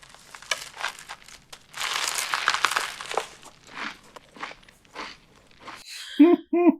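A crinkly package of Cap'n Crunch cereal rustles and crackles in bursts alongside crunchy chewing, close up and uneven, before a voice briefly speaks at the end.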